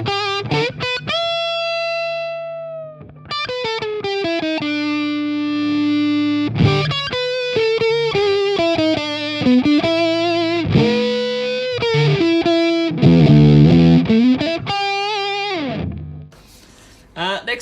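Electric guitar run through a Pepers Pedals Russian Doom Machine fuzz pedal, playing thick, saturated chords and sustained lead lines with heavy distortion, loud and continuous, alone with no talking.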